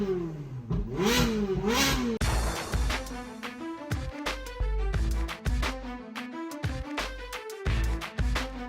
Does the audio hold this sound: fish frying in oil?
no